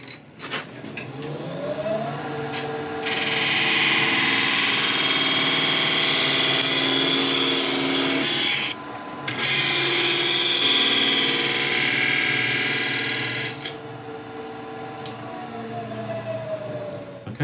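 Wood lathe spinning a turned workpiece while a captive ring tool cuts a ring free, giving a steady whirring hum with broad scraping hiss swelling through the middle and easing off near the end.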